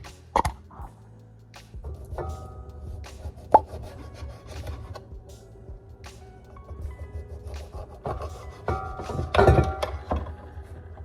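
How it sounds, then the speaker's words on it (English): A few irregular knife strikes and scraping, rubbing sounds as ginger is cut on a cutting board, with quiet pauses between the cuts. "I'm going to cut some ginger up and put it in my water."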